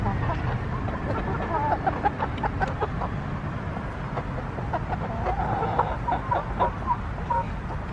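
A flock of young laying hens clucks and murmurs continuously, many soft overlapping calls close by over a steady background rumble.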